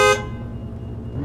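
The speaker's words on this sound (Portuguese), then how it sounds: "Tem que dar uma buzinada?" A taxi's car horn in a driving simulator game gives one short, sharp toot right at the start, then cuts to a low, steady engine hum.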